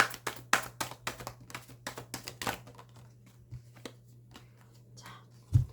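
Saju oracle cards being shuffled by hand, a quick run of crisp riffling snaps and taps that thin out into sparse soft clicks, close up, with a faint steady hum beneath and no speech.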